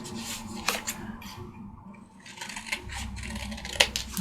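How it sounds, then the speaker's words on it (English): Scissors cut through paper card for a handmade journal tag, with a few close, crisp snips and rustles of the card, heard alone without talk. "I'm just going to use my scissors and do it the easy way, easy peasy."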